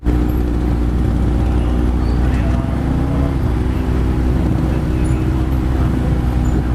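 Steady roadway noise from a congested, jammed road, with a constant low engine drone and continuous rumble of slow-moving vehicles close by, no talk.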